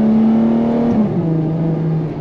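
A loud Ferrari F12 TdF engine drones close by, its pitch holding steady then dropping in a quick step as it shifts gear, settling into a lower hum.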